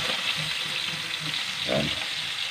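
Galunggong fish fries in a pan of oil with a continuous, even sizzle and crackle close by, alone without talk.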